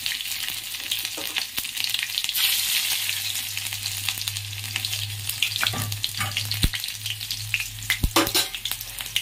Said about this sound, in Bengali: রসুন ফোড়ন দিয়ে দেবো,